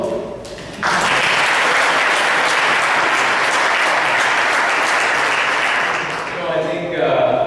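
Sustained, loud applause from a conference audience on stage at an innovation forum, starting abruptly after a second and filling the room evenly, with a few voices heard near the end as it tapers.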